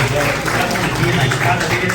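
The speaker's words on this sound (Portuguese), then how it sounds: "Uma salva de palmas para o governador." Audience applauding a governor at a Rotary Foundation grant management seminar, a dense, steady wash of clapping filling the room with voices mixed underneath.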